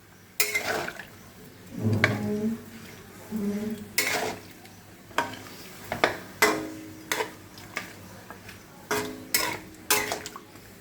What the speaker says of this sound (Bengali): জল দিয়ে একটু সাঁতলাবো।